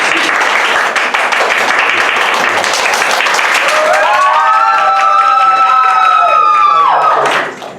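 Theatre audience at a matinee performance of a comedy show applauding loudly and steadily, dense clapping from many hands with whoops and cheering rising toward the end before cutting off.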